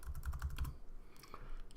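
Quick bursts of typing on a Mac keyboard, several keystrokes in a row, followed by a few scattered clicks, close and fairly quiet.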